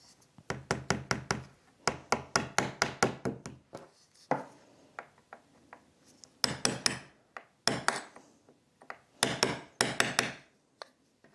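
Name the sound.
hammering nails into antique wooden picture frame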